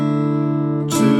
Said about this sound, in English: if we're going to strum down and then back up again, it would sound like this.